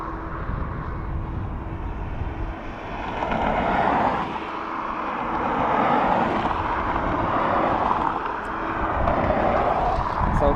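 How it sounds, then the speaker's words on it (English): A Ryanair Boeing 737 arriving at Dublin Airport from Italy, its jet roar swelling and ebbing in slow waves, fairly loud and close, with some wind buffeting on the microphone. "So 737 of Ryanair"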